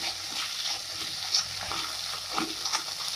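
Ingredients for herbal mooligai kuzhambu, including greens, sauté in a pan with a steady hissing sizzle and a few soft scrapes from stirring.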